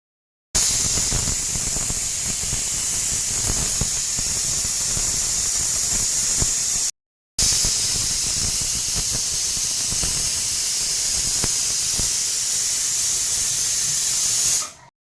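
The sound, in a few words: pressure cooker whistling and hissing steam while boiling eggs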